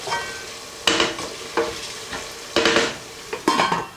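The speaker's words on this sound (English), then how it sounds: "Just chop that, just add it in, give it a stir round" Freshly chopped ginger stirred into a hot pan, sizzling quietly while a utensil scrapes and clatters in several short bursts.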